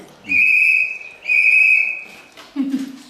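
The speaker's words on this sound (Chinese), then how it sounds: "小朋友吃饱了，在外面吹口哨" A child outdoors whistles two long, steady notes, each held about a second, followed by a short low voice-like sound; clear and fairly close.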